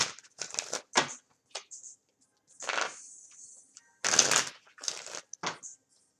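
Oracle cards, a Chakra Wisdom deck, being shuffled in irregular bursts of soft riffling and crisp slapping, with short pauses between passes, close and fairly quiet, with no talking.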